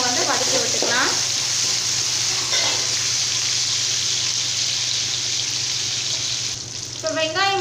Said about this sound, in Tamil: இப்போ இது எல்லாமே சேர்த்துட்டு நல்லா நம்ம வந்து வதக்கி விட்டுக்கலாம்.